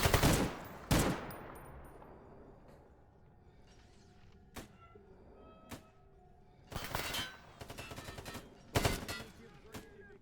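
Gunfire in S.T.A.L.K.E.R. GAMMA: a few loud sharp shots early, then scattered single cracks and rapid bursts of automatic fire, with quieter game ambience between.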